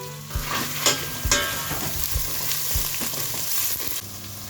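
Onion and chili fry in oil with fennel seeds and mustard seeds for a spicy vegetable spaghetti, a loud close sizzle broken by repeated knocks and scrapes of stirring, with no speech.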